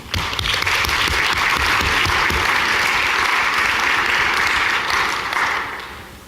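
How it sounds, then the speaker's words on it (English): An audience gives a round of applause for the morning speaker, Steve English: dense, steady clapping from a sizable crowd that holds for about five seconds, then tapers off near the end. "let's give him a round of applause"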